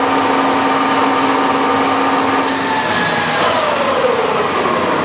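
A Lodge & Shipley 19 x 30 Power Turn tool room lathe runs with its spindle at 1,122 RPM, a loud, steady mechanical whir and hum with a faint tone that sinks slightly partway through, heard alone.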